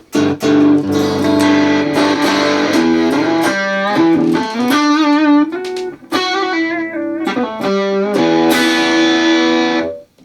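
An electric guitar played through an analog preamp captured on a Nano Cortex with a cab simulation rings out in loud, distorted chords and melodic runs, with brief pauses between phrases.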